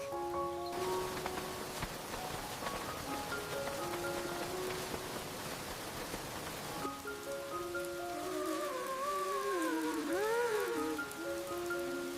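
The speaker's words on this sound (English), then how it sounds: "Oops. It's starting to rain." Steady rain patters on a surface beside the summer sea, a dense even hiss that carries through the whole stretch, while soft musical tones hum beneath it.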